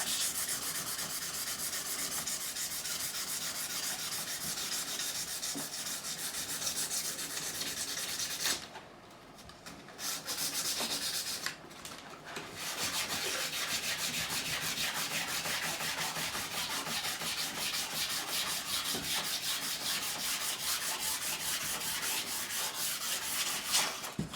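Steady back-and-forth rubbing of hand sanding with 160–180 grit sandpaper, a gritty scratching texture running continuously apart from two brief pauses in the middle, with no talk.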